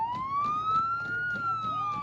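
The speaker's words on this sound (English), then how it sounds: "a ceremonious honk of the horn, lights, and sirens outside of CTEC last week" A retired fire engine's siren wails in a long rising and falling tone, with pulsing horn-like bursts layered over it, fairly close and steady throughout, with no talk.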